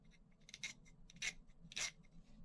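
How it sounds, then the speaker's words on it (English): A metal file scrapes along the edge of a soldered silver pendant frame in three short, separate strokes, close but quiet. "obviously you can file back and forth, but that's the basic direction I like to go"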